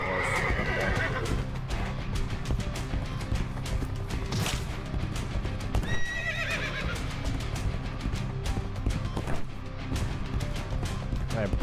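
A galloping horse in Legacy of Kain: Ascendance pounds out continuous hoofbeats with occasional whinnies, steady and close amid busy game effects throughout.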